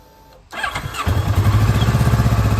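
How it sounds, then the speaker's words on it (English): A 2013 Kawasaki ER-6F motorcycle engine cranks briefly and fires, settling into a steady, rapid, throbbing idle, loud and close with no talking. "Let me get the bike started up and you can hear how she sounds."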